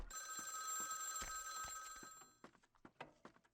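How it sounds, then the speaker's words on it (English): A telephone rings loudly in Vampire: The Masquerade – Bloodlines, a steady electronic bell tone held for about two seconds before cutting off, followed by scattered clattering and thuds. "why do you ring the phone if you're gonna throw it at me?"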